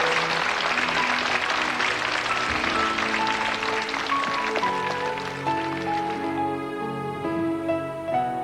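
Applause from the audience at a kindergarten graduation ceremony rises to a steady, dense clatter of many hands, with piano-like music tones surfacing toward the end and no voices over it.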